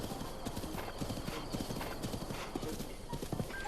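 Horse hooves clip-clop in a steady trot through the Breath of the Wild game world, dense and continuous, with a brief whinny-like texture mixed into the busy ambient sound.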